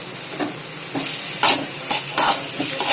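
Tomato, onion, green chili and curry leaves sauté in hot oil for a Sri Lankan fried brinjal gravy, with several loud stirring scrapes and bursts of sizzle over a constant frying hiss.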